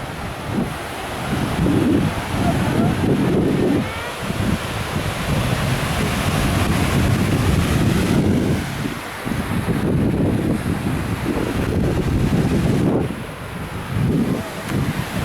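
Surf and gusting wind on a beach on Koh Chang island, a steady broadband roar of waves with wind buffeting the microphone, continuous and fairly loud with surging swells throughout.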